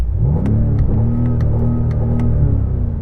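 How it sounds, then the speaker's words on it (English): A BMW M5 engine revs steadily at a low, droning pitch, loud and close, holding a sustained rumble for a few seconds. "And now rev up and try not to break it."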